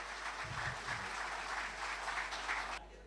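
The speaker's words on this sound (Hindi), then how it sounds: "एक दफ़ा भरपूर हमारे तीनों शौरा कराम के लिए भरपूर तालियां बजाइएगा प्लीज़" Applause from the audience at a mushaira poetry gathering, honouring three poets. It is a steady wash of clapping that holds for nearly three seconds, then cuts off abruptly.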